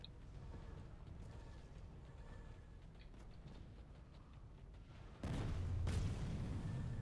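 Big explosions in the video game Planetside: a low rumble of distant blasts and gunfire, then a sudden loud, close boom that swells and lingers near the end.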